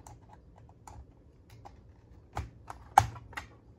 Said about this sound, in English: you have to pry open this area right here.